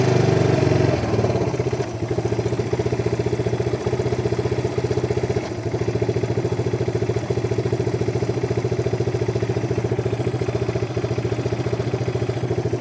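A Yamaha Breeze 125 quad's small single-cylinder engine idles steadily and close after the choke is cut, a fast even putter with clattery mechanical ticking, the pitch settling lower in the first second.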